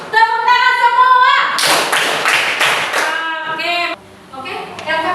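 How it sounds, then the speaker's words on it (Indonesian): Students in a classroom clap together in a burst of rhythmic, closely spaced claps, clear and nearby, with voices chanting before and after. "tepuk tangan 1, tepuk tangan 2, tepuk tangan 3, tepuk tangan semua"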